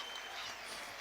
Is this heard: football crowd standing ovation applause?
yes